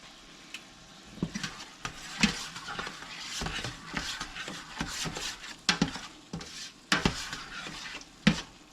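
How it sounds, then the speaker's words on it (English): Ground beef sizzling in a pan for homemade chili, a steady crackling fry broken by intermittent clinks and scrapes of a utensil stirring, close and moderately loud with no talking. "Let it sizzle."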